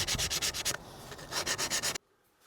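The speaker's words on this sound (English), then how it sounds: "200 grit sanding block." Rhythmic back-and-forth rasping of a 200 grit sanding block on a drilled tile edge, about a dozen quick strokes with a short pause, close up, ending abruptly.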